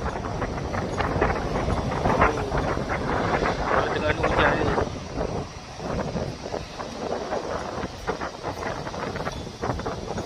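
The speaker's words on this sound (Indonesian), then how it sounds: "Angin kuat, sana dah gelap nak hujan." Strong wind sweeps a beach in Terengganu as dark rain clouds gather, making a continuous loud, gusty rumble that buffets the microphone throughout.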